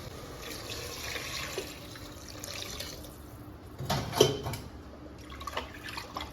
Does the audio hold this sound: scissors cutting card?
no